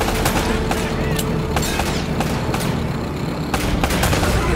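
Gunfire in Uncharted: Drake's Fortune: repeated sharp shots crack out in irregular bursts over a loud, busy battle backdrop, some close and punchy, others overlapping into a ragged fusillade.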